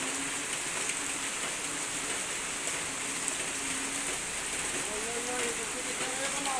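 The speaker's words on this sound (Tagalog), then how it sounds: "si Papa Bits nagtatampisaw din sa ulan" Steady, dense rainfall hisses across the whole stretch, a constant wash of drops on surfaces with faint voices underneath.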